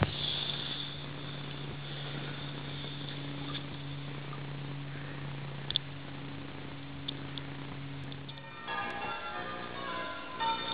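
Church bells ring out in the distance over the Exe estuary, a low sustained toll hanging over quiet surroundings, fading before a brief clatter near the end.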